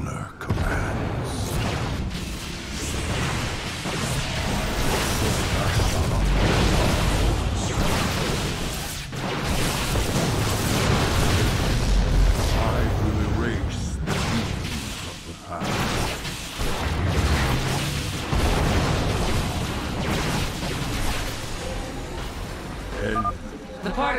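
Cannons blowing up in the StarCraft 2 video game, a dense, continuous roar of booms and crashes filling the whole stretch, with game voice dialogue running over the battle noise.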